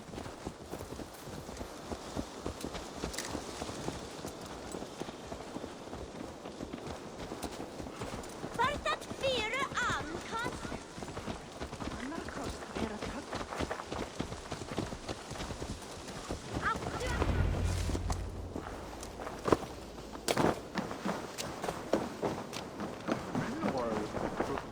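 A horse's hooves clip-clop steadily in a video game, a running rhythm of hoofbeats that continues alongside voices throughout.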